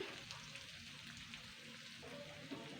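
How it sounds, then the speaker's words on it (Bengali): Spices frying gently in a pan over a low flame for an onion dish, a soft, steady sizzle with faint crackles, quiet and continuous. "এটাকে লো ফ্লেমেই ভাজতে হবে"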